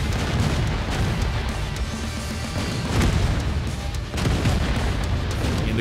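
Deep booming tank cannon fire from World of Tanks on the Prokhorovka map, with an AMX 13 90 in play, heard as a dense, loud, sustained rumble with a couple of heavier blasts over continuous battle noise.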